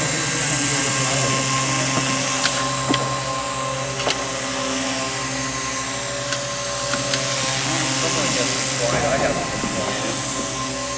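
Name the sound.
radio-controlled helicopter flying indoors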